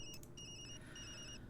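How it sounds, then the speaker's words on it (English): A phone rings in the video game Tokyo Dark, a repeated electronic trill in short bursts, heard clearly over a low ambient game hum. "That's my phone."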